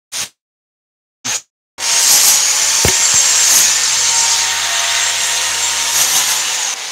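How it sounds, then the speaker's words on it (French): A reciprocating saw buzzes steadily through wood for several seconds, close and loud, after two short bursts of the tool starting and stopping. "je vais venir couper avec la scie sabre tout l'arrière"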